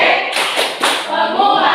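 A group of students claps the P5 rhythmic clap routine together in a classroom ice-breaking activity, a dense burst of rapid claps with a few stronger accents, close and loud.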